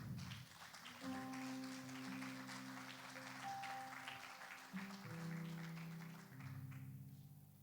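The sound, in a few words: church congregation applause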